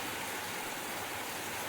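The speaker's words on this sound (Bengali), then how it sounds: "আর তারপর নামলো ঝমঝমিয়ে বৃষ্টি।" Heavy rain pours down after a lightning flash, a steady, dense hiss with no breaks and no voices.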